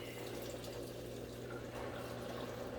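A Kuppet portable washer's pump pushes water out through a long replacement drain hose, giving a steady, even rush of flowing water with no pauses.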